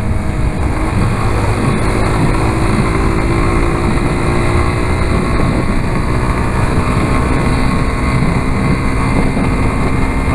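Motorcycle ridden on a road in the late afternoon, heading back from the Estrada Velha da Graciosa, with a loud, steady engine drone and rushing wind noise close to the mic and no pauses.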